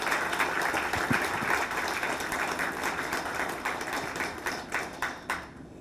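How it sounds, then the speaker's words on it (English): Round of applause from an event crowd honoring two people, moderately distant clapping that thins out into a few separate claps at the close. "Let's give them a round of applause for all their work."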